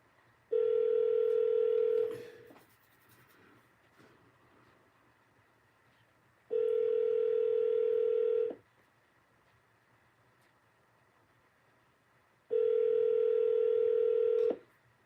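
A phone call comes through an Alexa smart speaker as a repeating electronic ring tone: three steady two-second bursts spaced about four seconds apart, clear and fairly close, with no talking.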